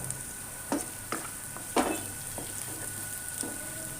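Finely chopped green chillies added to gram flour roasting on low flame, a low sizzling hiss broken by several sharp stirring scrapes and taps of a spoon against the pan.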